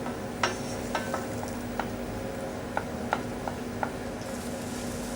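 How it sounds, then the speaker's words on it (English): A cooked-out roux for blanquette of lamb is stirred continuously in a pan, a soft, low sizzle with a few light spoon taps against the metal at irregular intervals, fairly quiet and with no talking. "Stirring continuously to prevent lumps."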